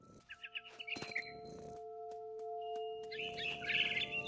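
Birds chirp and tweet in the video game What Remains of Edith Finch, a few short bright calls at the start and a busier burst near the end over a faint tonal ambient hum.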